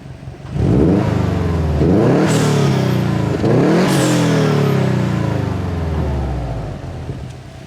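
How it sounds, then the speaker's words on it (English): A Subaru WRX engine revs hard close by, climbing in a few swelling bursts, dipping between each one, then settling back toward idle. "I'll give her a little rev from the back"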